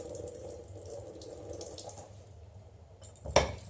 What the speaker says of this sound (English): So let me pour off a little bit of this juice.